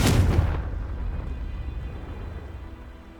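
A Confringo blasting spell erupts in Hogwarts Legacy with a loud, close boom that fades over half a second into a low rumbling tail and ambient hum.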